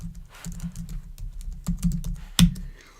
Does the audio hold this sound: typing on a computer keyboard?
yes